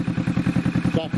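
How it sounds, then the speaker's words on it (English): A 2020 Kawasaki Vulcan S fitted with a budget aftermarket full exhaust system idles close by, a deep, even rumble of rapid regular pulses heard alone and loud throughout. "Sounds actually like the Vulcan should sound. A deep rumble, and deep idle."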